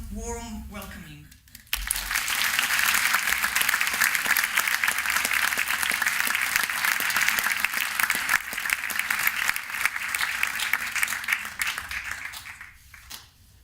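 Sustained audience applause in a lecture hall welcoming a speaker, a dense steady wash of clapping that swells in after a short spoken introduction and fades out near the end.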